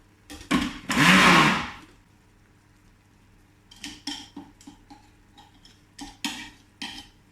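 A kitchen blender whirring through a nettle and black garlic mixture, a loud burst of motor roar followed by several short pulsed bursts and light clattering knocks, close and alone with no talk.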